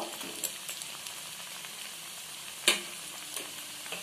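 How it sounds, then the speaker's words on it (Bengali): Semolina pakoras frying in hot oil in a pan, a steady close sizzle and crackle throughout with a few sharper pops and stirring clicks, no talking. "দেখুন এইভাবে নেড়ে চেড়ে এগুলোকে আমি ভেজে নিচ্ছি যতক্ষণ না ব্রাউন হচ্ছে।"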